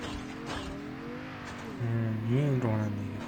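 A car in Call of Duty drives and revs, its engine note climbing and swelling into a louder rev mid-clip before easing back, with people talking over the engine throughout.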